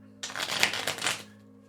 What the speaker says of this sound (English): So I'm shuffling up the cards.